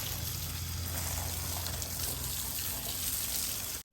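Continuous splashing water from watering plants, steady and fairly close, running without voices before cutting off abruptly at the end.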